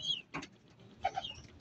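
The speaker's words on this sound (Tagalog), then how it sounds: "At ngayon na tayo nagpapaligo ng kalapati" Racing pigeons being bathed in water mixed with Baxidil SC give a few soft, close coos, mixed with faint fluttering and splashing.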